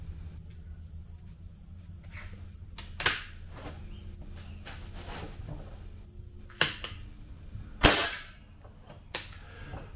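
Three sharp shots from a Seneca Dragonfly Mk2 pump air rifle, each a crisp crack spaced a few seconds apart, the third loudest, over a quiet outdoor background.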